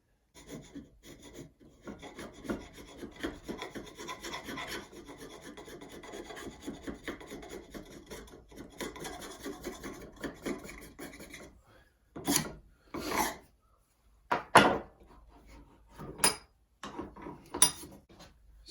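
An Adirondack axe blade peels and rasps across wood, a long continuous scraping passage followed by several separate, sharper strokes with brief pauses between them, close and fairly quiet.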